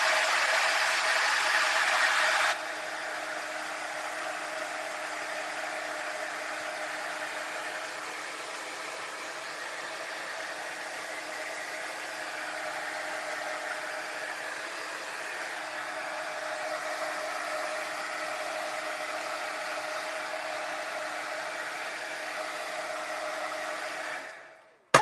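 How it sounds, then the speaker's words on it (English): A handheld heat tool drying and heat-setting paint on a stenciled craft project gives a steady, close blowing whoosh like a hair dryer, louder for the first couple of seconds, then holding even until it cuts off at the end. "I'm going to heat set this just a little bit."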